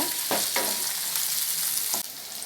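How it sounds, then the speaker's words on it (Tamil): Tomatoes with onions frying in a pan for a Tamil-style brinjal varuval, a steady close hiss of sizzling oil broken by a few sharp scraping stirs of the spatula. "தக்காளி அப்படியே ஃப்ரை ஆகி வரட்டும்."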